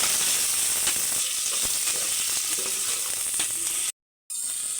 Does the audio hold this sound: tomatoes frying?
yes